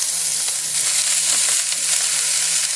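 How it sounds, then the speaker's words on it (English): Brussels sprouts sizzle and fry loudly in hot oil in a pan, a steady crackling hiss close up with no voices over it. "basically have the oil in there. Put our Brussels sprouts in there."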